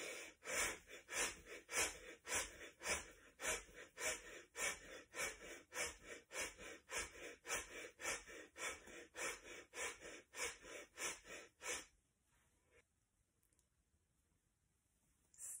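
Deep breathing during a breathing exercise: forceful, evenly paced breaths repeat rapidly and close up for about twelve seconds, then stop abruptly into near silence.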